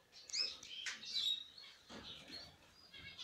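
Canaries in a breeding cage, one male among several females, give bright, high chirps and short twittering bursts in irregular clusters, fairly close and clear against a quiet room.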